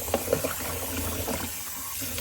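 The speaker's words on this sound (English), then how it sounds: "Do a cold water rinse." Cold water runs continuously into a sink for a rinse, a steady close hiss and splash with a few small knocks near the start.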